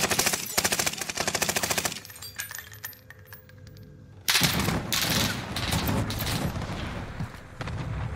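Video game gunfire, with dense rapid automatic bursts and heavy shots crackling almost continuously over game music and effects, loud and close, pausing briefly before another intense volley.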